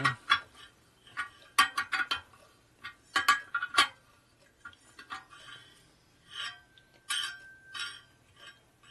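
A torque wrench clicks sharply while tightening bolts on a 1973 Harley-Davidson Shovelhead 74ci custom bobber, several metallic clicks in short bursts with light clinking between, close and alone.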